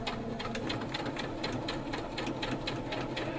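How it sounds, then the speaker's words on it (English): A sewing machine stitches a hem at a steady, rapid rhythm, its needle ticking evenly throughout at a fairly quiet level with no talk. "I'm going to start a couple of stitches."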